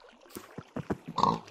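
Pigs in a survival game give a few short, low grunts and snorts, close and fairly quiet, with a louder snuffling burst near the end.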